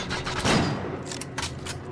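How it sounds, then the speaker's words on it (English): Sniper rifle shots in the shooter You Are Empty, set in an empty city: a few sharp cracks with decaying reverb, one heavier report near the start and two quicker shots later, fairly quiet and without talk. "Yeah, this rifle is inaccurate."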